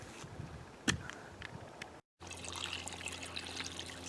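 Water poured into an upcycled bird bath with a solar-powered fountain pump, starting as a faint trickle with a sharp splash, then a steadier pouring and splashing flow over a low hum.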